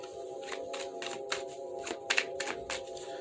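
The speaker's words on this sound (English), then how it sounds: "Let's get 5 shuffles for the fixed signs" A deck of tarot cards is shuffled by hand in a quiet room, with a series of quick riffling bursts and soft card slaps coming close together in an uneven rhythm.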